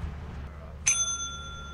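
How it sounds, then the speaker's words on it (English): A single bright bell strike rings out in the video game Lethal Company, with a clear metallic ring that lingers and decays over a quiet background. "if you tell me not to ring the bell, I have to ring the goddamn bell"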